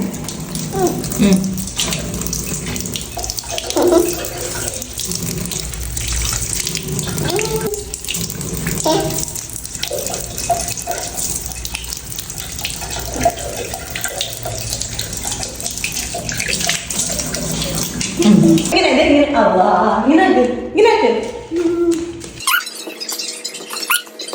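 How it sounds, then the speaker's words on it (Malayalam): Water from a tap runs steadily while hands, face and feet are washed before prayer, with splashing and shifting flow throughout, loud and close, then cutting off near the end, with voices talking over it. "ആ മുഖം ഇനി കൈ കഴുകി ഇവിടെ കഴുകി ഇവിടെ കഴുകി ഇവിടെ കാല് കഴുകി കാല് കഴുകി കാല് കഴുകി"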